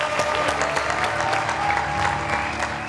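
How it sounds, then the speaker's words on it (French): A crowd claps steadily to welcome a guest onto the stage at a French-speaking gathering; the applause is loud, continuous and close, with no talk over it. "On va applaudir encore pour Monsieur Cho"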